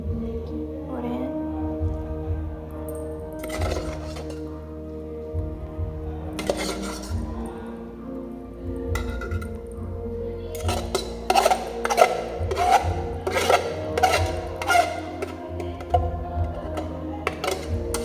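Spaghetti goes into a pot and gets stirred, with a series of metallic clanks and clinks of utensil against pot over a low steady hum, the clatter growing busier and more rapid toward the end.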